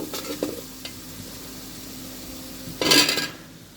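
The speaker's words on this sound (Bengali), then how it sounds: "লবণ দিয়ে আবার নাড়বো।" Malabar spinach curry with egg, freshly salted, is stirred as it fries in a pot, giving a soft steady sizzle broken by brief scrapes and a louder burst of stirring near the end.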